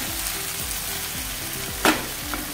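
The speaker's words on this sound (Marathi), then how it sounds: "आता हे व्यवस्थित परतून घ्यायचं आहे. आलं लसणाचा कच्चा वास जायला हवा." Ginger garlic paste sautés in a pan for a hotel-style mushroom masala, a steady close sizzle with regular scraping stirs and one sharp clatter of the spoon, and no one speaking.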